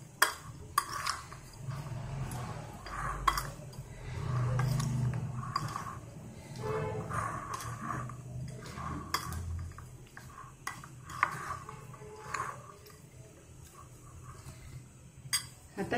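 Raw mango pickle with jaggery being mixed in a bowl, soft continuous clinking and scraping of a utensil against the bowl, faint and close, with occasional light knocks throughout.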